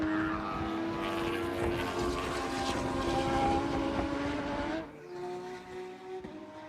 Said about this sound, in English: And the car just now coming out of pit lane.